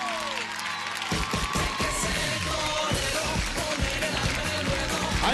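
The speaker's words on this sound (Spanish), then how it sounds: "Fuerte el aplauso para él." A television studio audience cheers, whoops and applauds loudly as music with a heavy beat kicks in, a dense crowd roar that lasts throughout.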